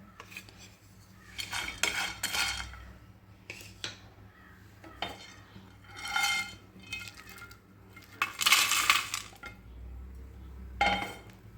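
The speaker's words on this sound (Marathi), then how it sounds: "असे मंद आचेवर सगळे भाजून घ्यायचे तेल वगैरे काहीच घातलेलं नाही आहे कोरडेच भाजायचे" Spices for kitchen king masala dry-roast in an oil-free pan over a low flame, with intermittent scraping and metallic clinks from a spoon stirring against the pan in short bursts.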